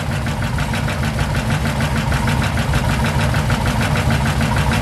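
A 440 car engine running steadily and close up, given a little gas so it drones with a rough, even mechanical rumble and faint knocking rhythm, loud and unbroken with no voices.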